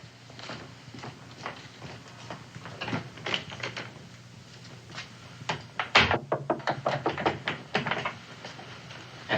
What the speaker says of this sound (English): Answer the door, Sally.